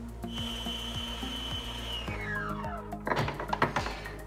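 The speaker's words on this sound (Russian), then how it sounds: "Взбиваем до пышной белой массы." An electric mixer whips eggs and sugar into a fluffy white mass, its steady high motor whine sliding down in pitch, followed by a few clattering knocks against the bowl.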